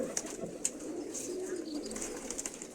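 Racing pigeons returning home after a 40 km toss give soft, low cooing, faint and a little distant, over quiet background noise.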